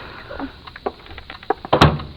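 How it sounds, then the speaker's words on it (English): An apartment door is shut in a 1950s radio mystery drama: soft footsteps and movement lead to one sharp, fairly close thud of the door closing near the end, with no talking. "Come in and shut the door."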